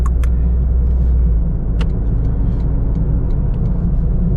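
A 2025 Toyota GR Corolla with an automatic transmission cruises steadily in drive, its low engine and road rumble constant throughout, with a few faint clicks and ticks over the drone.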